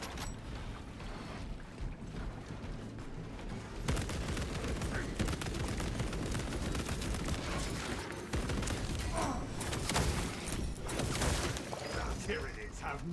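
Auto bolt rifle firing volleys in a Warhammer 40K battle against Tyranids: dense, rapid bursts of gunfire that run on over a loud, busy game soundscape, with a voice in places.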